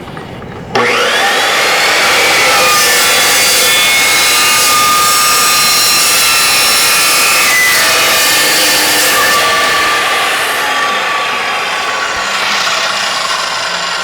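An Evolution metal chop saw cuts through metal with a loud, steady high-pitched whine and grinding screech that starts abruptly and holds for the whole stretch, alone without voices.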